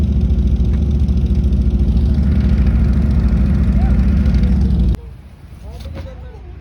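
A motorbike engine runs loudly nearby at a hill station in Himachal Pradesh, a steady throbbing drone that cuts off abruptly near the end, leaving quieter ambience with a voice speaking.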